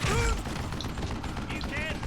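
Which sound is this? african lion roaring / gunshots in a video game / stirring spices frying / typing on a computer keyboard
gunshots in a video game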